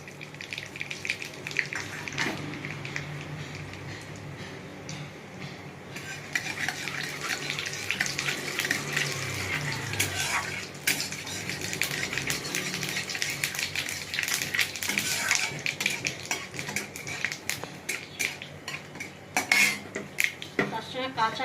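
Dried red chillies and mustard seeds are tempered in a pan for mango dal, with close metallic clatter of a spoon and utensils over a light sizzle in irregular bursts and no talking.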